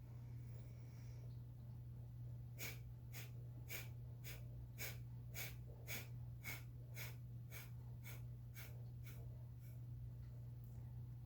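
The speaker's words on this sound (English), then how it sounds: "multiple very short exhales at your own pace" Breathwork exercise of rapid, short, forceful exhales through the nose: about fourteen quick puffs in an even rhythm, close and fairly soft, over a low steady hum, with no speech.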